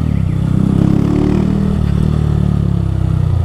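A modified Honda Fan motorcycle with an aftermarket filter revs its engine close by, a loud, steady, raspy burbling drone that swells slightly and holds for a few seconds with no talk.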